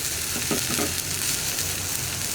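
Turmeric and spice powders fry in a pan for green peas masala while a spoon stirs them, a close, steady sizzle with a few scraping strokes near the start and no talking.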